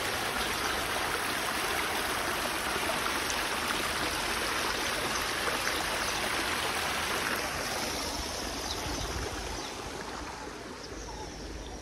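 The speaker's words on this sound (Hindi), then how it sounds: "ये देखो फ्रेंड्स पानी की कितनी अच्छी आवाज़ आ रही है यहाँ पे।" Water in a stream flows through the Sanjay Van forest in New Delhi, a steady, full rushing wash that stays loud and close throughout, easing off slightly toward the end.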